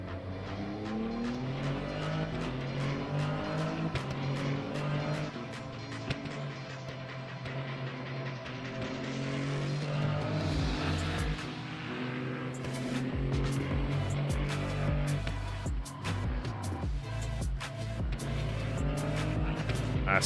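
LMP3 prototype race cars battle at Circuit of the Americas in a European Le Mans Series round, engines revving hard with shifting pitch and a car passing close, tyres squealing briefly amid continuous loud engine roar.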